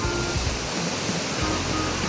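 Mino waterfall rushing in a steady, loud broadband roar that holds unbroken throughout, with a low rumble underneath and no voices.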